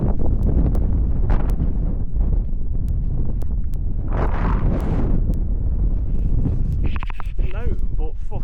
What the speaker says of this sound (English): So it's a bit fucking windy up here